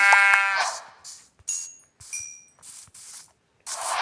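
A sheep in Minecraft bleats several times in short, separate calls, fairly close and clear, with small pauses between each bleat.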